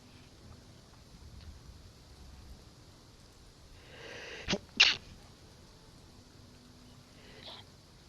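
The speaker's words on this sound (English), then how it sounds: "I was trying not to sneeze. I failed" A single sharp sneeze, close and fairly loud, preceded by a brief breathy intake, set against quiet room noise with no talking.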